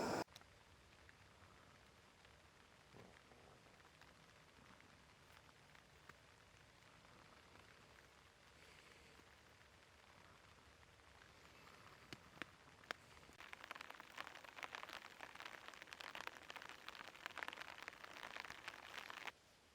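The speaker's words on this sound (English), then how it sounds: "Mist and rain, that's what we've got." Rain pattering on a camping umbrella in misty weather, a steady soft hiss of drops that swells louder toward the end, with no voices.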